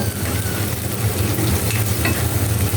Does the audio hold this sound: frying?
yes